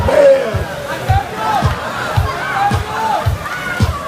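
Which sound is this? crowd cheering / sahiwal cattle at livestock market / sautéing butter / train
crowd cheering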